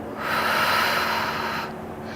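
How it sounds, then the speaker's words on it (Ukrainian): A single long, airy breath during a pelvic floor exercise session, steady and close, alone without talk. "Вдих, видих."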